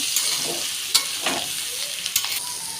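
Vegetables sizzle in hot oil for a vegetarian dish, a close continuous frying hiss broken by a few scraping stirs of a spatula, with no voices.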